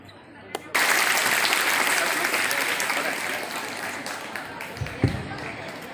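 An audience at a school motivational talk bursts into loud applause after a brief quiet start, then the clapping slowly thins out, with a few knocks and thumps near the end.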